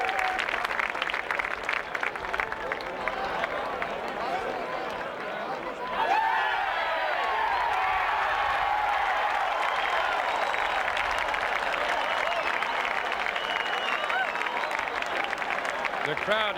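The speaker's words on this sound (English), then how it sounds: "The crowd are cheering because the scores have just been put up." Golf gallery at the 1991 Masters Tournament final round cheering and applauding, a sustained roar of clapping and voices that swells sharply partway through and stays loud, with talk underneath.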